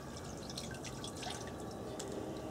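Water drips and trickles from animal hides just lifted out after soaking about 72 hours for home tanning, a faint scattered patter of drops under a soft steady hiss.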